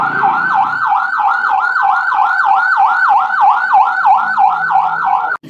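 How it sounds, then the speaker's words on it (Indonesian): A toy ambulance siren wails continuously in a fast, even up-and-down warble, loud and close, cutting off abruptly at the end. "Ada mobil ambulans"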